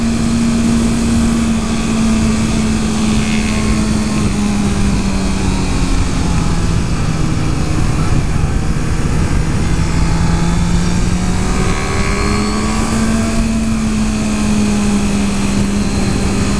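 A 2014 Honda CBR650F motorcycle engine drones loudly and continuously, pitch sagging and rising as the throttle changes, with heavy wind rush throughout.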